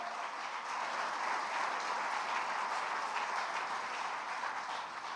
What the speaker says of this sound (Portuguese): Você pode aplaudir bem forte esse Deus?